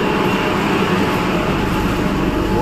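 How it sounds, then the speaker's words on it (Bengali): A metro train arrives at a station on the Kolkata line under the Ganges, a steady, loud rumble of wheels and motor filling the whole stretch with no break. "এই যে গাড়ি আসছে"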